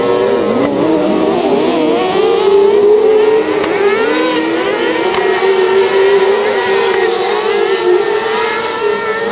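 Kart cross cars race on a track at a Naizin event in 2014, their engines loud and close, revving hard with rising and falling pitches as several machines battle in a pack throughout.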